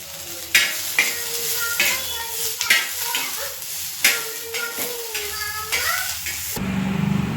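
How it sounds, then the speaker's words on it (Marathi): Ginger, garlic and coriander roast in hot oil, sizzling steadily while a spoon stirs and scrapes the pan with repeated clinks, and a voice talks faintly in the background. "आता अद्रक लसूण टाकलंय तेल टाकून भाजून घ्यायचं ते पण हे बघा कोथंबीर पण भाजून घ्यायची"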